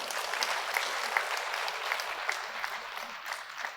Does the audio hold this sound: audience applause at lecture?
yes